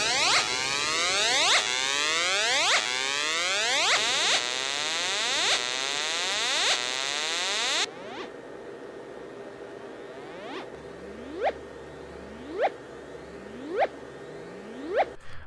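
Electronic tones from a small speaker driven by a DIY 8-bit R-2R ladder function generator: repeated rising ramp sweeps with a buzzy, harmonic-rich timbre, then sparser, quieter chirp-like sweeps at regular intervals.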